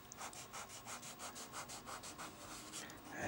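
A fingertip rubs pastel pencil into paper for a miniature beach painting, a faint, close, dry swishing that repeats in quick even strokes, with soft breathing nearby.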